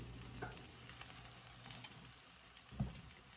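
Aloo tikki potato patties fry in a pan with a steady close sizzle and hiss of oil, a couple of soft knocks from handling the patties breaking through.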